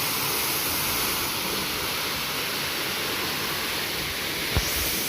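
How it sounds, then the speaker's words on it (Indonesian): The Kakek Bodo waterfall near Surabaya roars as a constant broad rush of falling water. It is loud, close and unbroken, with one brief knock near the end and no voices. "Nah, inilah air terjun Kakek Bodo."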